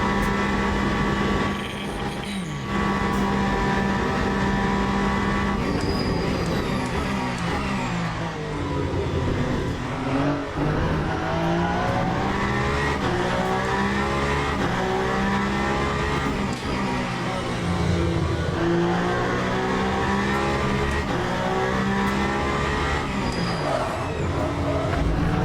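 A race car engine on a final lap in a racing video game, loud and continuous, repeatedly climbing in pitch through the gears and dropping on shifts and braking, with a sustained howl throughout.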